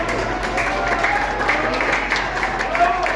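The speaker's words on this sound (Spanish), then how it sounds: "Démosle un aplauso a licenciado Basurto." An audience at a book presentation gives a short burst of steady, dense clapping that continues throughout.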